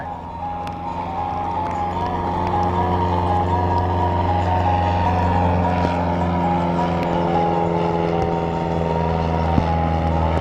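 A truck and a small aircraft on a grass runway at a Geneseo, New York airshow, a sustained loud droning engine with a steady tonal hum that swells slightly midway, with a faint distant voice.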